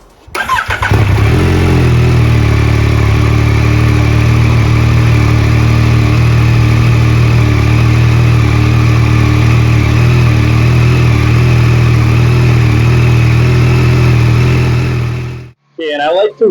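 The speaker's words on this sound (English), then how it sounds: "So I'm gonna turn on the bike and we're gonna get into this." A 2022 Yamaha MT-09 motorcycle starts up and settles into a loud, steady close idle while warming up, its even rumble holding until it shuts off near the end.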